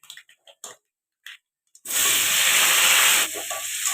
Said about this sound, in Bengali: টমেটো একটু ভেজে নেব যাতে টমেটোর কাঁচা গন্ধ না থাকে